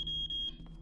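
A short, high electronic beep from the horror game CASE: Animatronics, a steady thin tone with a brief gap, heard close and alone over a low hum.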